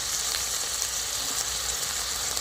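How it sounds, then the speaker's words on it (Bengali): Fried bata fish going into hot masala in a pan, a steady bright sizzle and crackle of oil throughout, close and even, with no voices. "একসঙ্গেই বাটা মাছগুলো ভেজে নিয়েছিলাম, এবার মশলাতে দিয়ে দিচ্ছি।"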